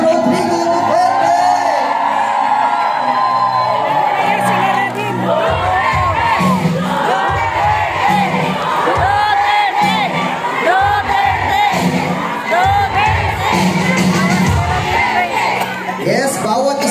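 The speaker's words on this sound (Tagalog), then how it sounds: "Nakita ulit natin ang isang hiyaw ng pagpapasalamat sa ating nag-iisang Rodrigo Duterte." A large crowd at a political rally for Rodrigo Duterte roars and cheers continuously, with loud shouts and whoops rising from the mass of voices throughout.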